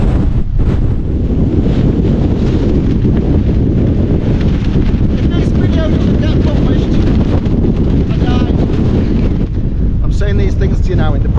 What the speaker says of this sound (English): The gusts are like, it's gotta be like 80, 90 miles an hour